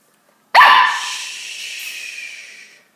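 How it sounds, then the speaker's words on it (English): A puppy gives a single sharp, loud yelping bark that trails off into a long, thin whine. The sound comes close up and clear against a silent background. "How can I talk to YouTube if you bark the whole time?"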